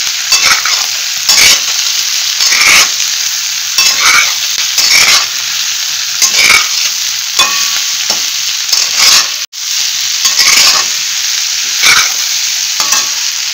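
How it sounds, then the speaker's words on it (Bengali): Two kinds of bell pepper stir-fried in a pan for pineapple chicken, a steady loud sizzle broken by repeated scraping strokes of a spatula roughly every second, close up with no talking. "বেল পেপার দিয়ে 1 মিনিট নাড়াচাড়া করি।"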